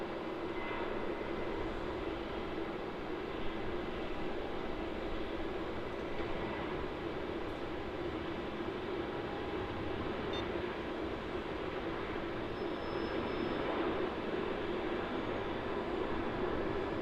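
A Boeing 737-800 airliner landing at Melbourne Airport, heard as a steady broadband jet roar that holds at an even, moderate level throughout, with no voices.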